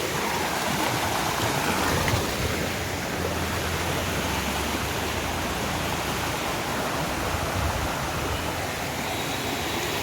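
A waterfall deep in the hill forests of Mayurbhanj, Odisha, roars as a constant, loud, broadband rush of falling water, unbroken for the whole stretch with no voices.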